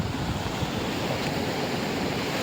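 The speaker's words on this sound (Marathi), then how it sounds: "हे बघा, समुद्राजवळ." Sea waves wash onto the seashore below a hill, a steady broadband roar of surf with wind, continuous and fairly loud throughout with no voices.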